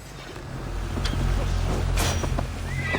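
Horses in the video game Assassin's Creed Valhalla give a short whinny amid a low rumbling battle soundscape, fairly distant and partly buried under the droning background.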